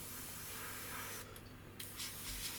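An airbrush with its pressure turned right down sprays paint onto a scale model aircraft, giving a faint, steady soft hiss with a brief pause partway through.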